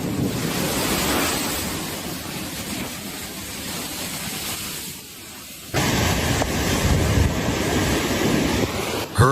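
Hurricane Andrew battering Florida: loud, roaring wind buffets the microphone over crashing ocean waves, a continuous churning surge that drops briefly before returning harder, with a sharp gust near the end.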